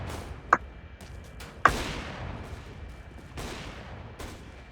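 Gunfire in Counter-Strike: Global Offensive: two sharp, loud shots about a second apart, then a few fainter distant cracks over a low background rumble.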